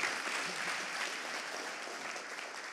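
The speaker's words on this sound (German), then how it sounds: "bitte Applaus für Doro" Steady audience applause for an award honoree at a German awards ceremony, dense and sustained without pause, heard alone.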